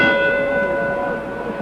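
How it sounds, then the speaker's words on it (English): A boxing ring bell rings once at a 1960 heavyweight title fight, signalling round four, a loud metallic tone that sustains and slowly fades, heard alone. "The bell for the fourth"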